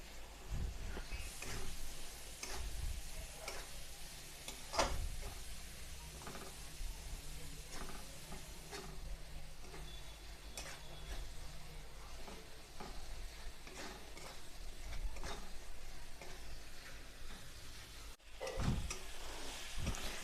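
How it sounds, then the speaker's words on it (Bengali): Spices with cumin-coriander powder and salt being stirred and fried for a Bengali rui fish malai curry, a soft continuous sizzle with repeated faint spoon scrapes and taps against the pan. "এখন সব মশলাগুলিকে একসঙ্গে ভালোভাবে নেড়েচেড়ে কষিয়ে নেব"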